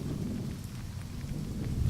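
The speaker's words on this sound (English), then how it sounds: "It's raining." Steady rain with low rumbling thunder, a continuous dense wash of noise throughout with no voices.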